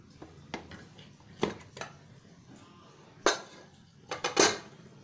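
A spoon works through mutton biryani in a pressure cooker, giving a handful of sparse, sharp metallic clinks and scrapes against the pot with quiet pauses between them.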